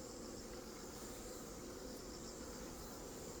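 Honeybees drone steadily at a beehive, a dense continuous buzz, faint and even throughout with no pauses.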